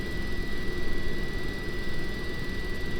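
Fuel is introduced to the number 2 Olympus jet engine of an Avro Vulcan, and it lights off into a loud, continuous roar with a steady high-pitched whine and low rumble.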